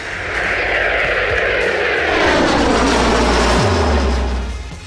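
Kizilelma unmanned combat jet aircraft in flight, a loud, steady roar throughout with a sweeping tonal shift, as of the jet passing close by.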